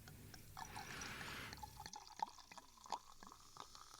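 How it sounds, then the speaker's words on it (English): Sparkling wine poured into a glass of gin makes a steady fizzing, splashing rush for about a second and a half, followed by a few faint drips and small clinks at close range, with no talking. "I'm going to pour my bubbly into my gin."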